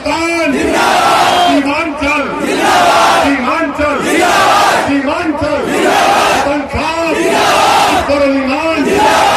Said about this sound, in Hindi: हमारे साथ नारा लगाइए, नारे तकबीर, नारे तकबीर